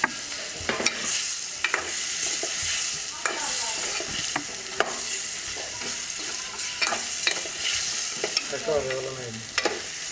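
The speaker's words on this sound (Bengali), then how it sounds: "একটা বেগুন আর 2টা ঢেঁড়স ধুয়ে দিচ্ছি, এগুলো একটু কষাই নিচ্ছি আগে মশলার সাথে।" Eggplant and okra frying with spices in a pan, a steady sizzle broken by repeated clinks and scrapes of a spoon stirring, close and fairly loud with no one talking.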